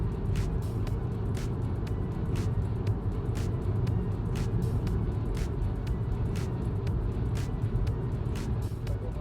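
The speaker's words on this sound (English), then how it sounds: "but I can hear the tires very much." A steady low roar of tires rolling on pavement fills the cabin of a moving Zeekr MIX car continuously, with faint ticking bumps and no talking.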